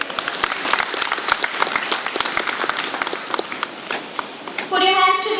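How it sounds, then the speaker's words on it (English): An association event audience applauds a vice president's welcome with steady, dense clapping throughout, a voice speaking over the end as the applause continues. "With a huge round of applause"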